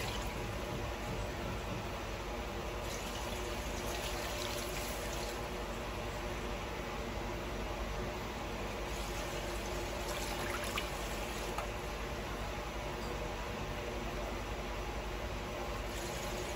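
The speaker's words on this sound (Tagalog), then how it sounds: "lalagyan na po natin ng tubig" Tap water pours steadily into a pot of chicken pieces for sinigang, a continuous loud splashing fill that runs unbroken without talk.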